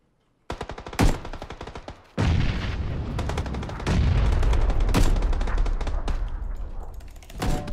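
Loud automatic rifle fire in PUBG rattles in long rapid bursts, broken by a short pause and separate sharp shots, close and dominant with no voices.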